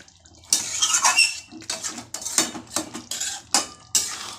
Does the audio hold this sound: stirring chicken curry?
yes